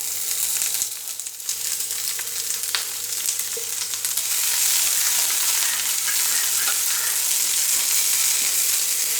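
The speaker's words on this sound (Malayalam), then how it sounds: "ഇനി നമ്മൾ എടുത്തു വെച്ചിരിക്കുന്ന ചെറുതായിട്ട് അരിഞ്ഞ സവാള ഇതിലേക്ക് ആഡ് ചെയ്ത് കൊടുക്കാം." Finely chopped onion hits a pan of hot oil with dried chillies for vanpayar thoran, setting off a loud, steady sizzle close by that swells louder partway through, with a few faint stirring knocks and no talking.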